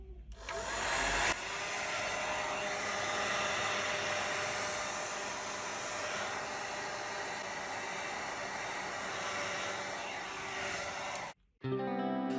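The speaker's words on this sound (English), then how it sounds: "Use a heat gun or hair dryer to heat up the surface of the back panel." A heat gun or hair dryer warming the back panel of a Google Pixel 4 smartphone, a steady close whooshing blow that runs for about ten seconds before cutting off.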